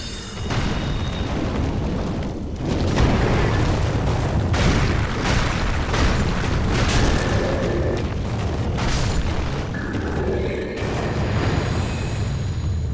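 Fire blasts shot at the player in Dark Souls III, heard as a dense run of loud, booming explosive bursts that roll on continuously with little pause.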